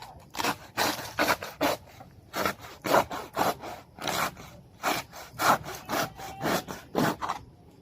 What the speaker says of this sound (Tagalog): Lagari yung ginamit namin sa pagputol dahil mabilis siya maputol dahil may ngipin.